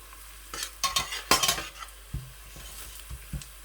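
Onions stirred and frying in a pot for minced-meat rice, with scraping utensil strokes and clinks over a low sizzle, in irregular bursts, close and moderately loud, with no voices.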